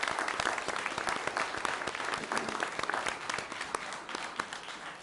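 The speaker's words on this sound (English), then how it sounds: "So let's please give these employees a round of applause." A round of applause at a county board of commissioners meeting in Putnam County, Florida, steady dense clapping from a room of people, moderately distant, no talk.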